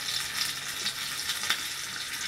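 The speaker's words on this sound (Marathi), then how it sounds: "तडक्यात आपण आता एक मिरची घालणार आहोत, 2 लवंग, 2-3 मिरे" Green chili, two cloves and a few black peppercorns crackle and sizzle in hot tempering oil for curd rice, with a steady hiss broken by small pops and spits.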